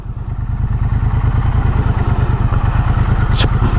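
A Triumph Bonneville Bobber 1200 motorcycle being ridden, with its engine giving a steady, loud, throbbing pulse that stays close and continuous throughout, with no talking.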